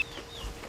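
A fighting rooster with long legs and neck gives a faint, brief cluck and a soft high call in an outdoor yard beside a coop, heard at a distance over quiet background.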